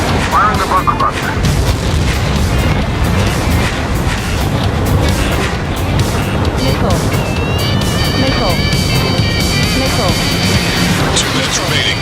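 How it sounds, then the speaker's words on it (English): Bunker buster bombs detonate in the Ace Combat 7 flight game: heavy rumbling booms and blasts roll under constant jet engine roar and radio chatter, and a high electronic tone rises near the end. "Firing the bunker buster."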